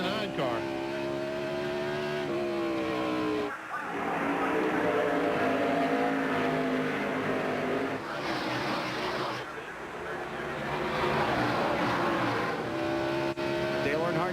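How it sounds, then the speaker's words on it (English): NASCAR Winston Cup stock cars racing at Watkins Glen, engines roaring loudly with shifting revs and passing surges, under a race commentator's continuous talk. "Oh, Junior all over the back of the 99 car"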